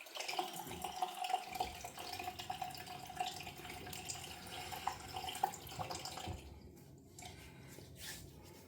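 A Merkur 37C safety razor is rinsed under a running tap, a steady close splashing hiss of water with small drips and squishes, easing off near the end.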